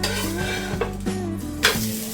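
Dhapate thalipeeth flatbread frying in oil and being flipped over, a steady close sizzle with a scrape and a brief louder hiss as the flatbread turns in the pan.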